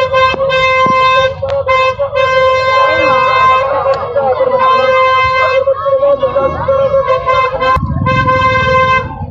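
Vehicle horns honk repeatedly, long sustained blasts and short toots overlapping over a busy fair crowd murmur and traffic noise.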